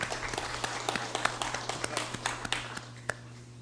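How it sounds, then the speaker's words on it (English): An audience applauds Mr. Herman Semes at a legislative session, scattered claps spreading through a steady low hum, thinning toward the end. "Let's give him a round of applause."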